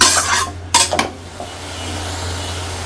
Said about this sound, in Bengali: এই পাশে শাপলাটা একটু ভাজি করে নিচ্ছি